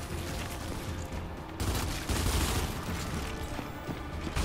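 Dense gunfire from the video game Gears 5 runs steadily throughout, a continuous loud crackle of shots and booms with no clear pauses.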